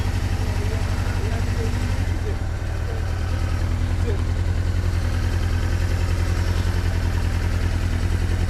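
A warmed-up Yamaha motorcycle engine idles steadily nearby with a low, even throb, running continuously throughout.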